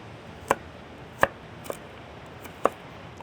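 A knife chops a peeled carrot on a board in four or five sharp, separate strikes, irregularly spaced and close up, with no talking.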